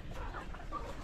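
Chickens clucking in a battery cage, faint, soft clucks and short calls heard close over low background noise.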